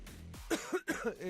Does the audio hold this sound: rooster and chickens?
no